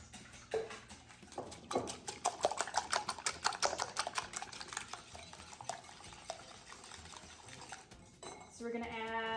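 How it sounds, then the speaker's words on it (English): Eggs whisked in a bowl for quiche Lorraine, a fast run of light metallic clicks and scrapes at close range, fading briefly before a final burst. "And we'll start whisking."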